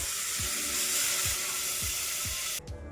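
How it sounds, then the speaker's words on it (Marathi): Water poured into a cooking pot for shengole, a steady loud rushing pour with faint rhythmic knocks underneath, stopping abruptly near the end. "आता गरजेनुसार आपल्याला पाणी टाकून घ्यायचं आहे."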